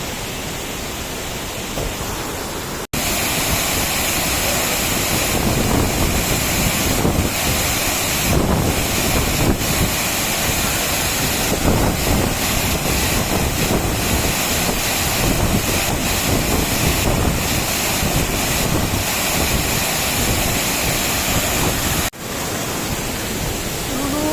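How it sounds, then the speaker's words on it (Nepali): Mailung waterfall in Rasuwa, Nepal, thunders as a loud, steady roar of falling and splashing water close by. The rush runs unbroken, dipping only for a brief moment near the start and again near the end. "म चाहिँ झरनाको मुनि बसेर टक्क नुहाइरहेको छु"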